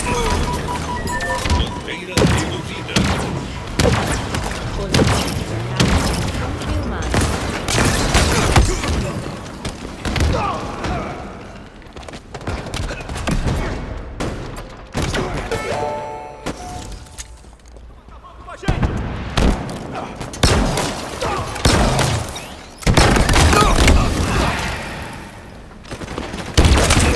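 Bursts of rapid gunfire and heavy booms from Halo Infinite on Xbox Series X, loud and near, with pauses between volleys and some voices mixed in.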